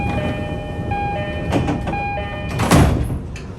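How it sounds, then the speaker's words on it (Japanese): Sliding doors on a local Tokaido Line train for Numazu close at Chigasaki station, late at night, as chime tones ring over station hum and then a near thud and rush of air mark the doors shutting. "電車に乗車、扉が閉まります。"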